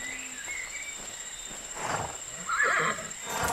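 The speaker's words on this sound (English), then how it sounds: "I should mount up and go back to the riding stable." A horse whinnies and snorts as it is mounted in the riding game My Little Riding Champion, with faint hoof and movement sounds against a steady soft background hum, the neigh rising clearly near the end.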